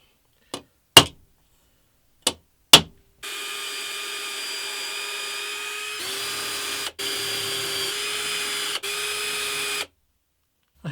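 A few sharp knocks, then an electric drill whirs in steady bursts at a constant pitch, drilling bolt holes, stopping briefly between runs.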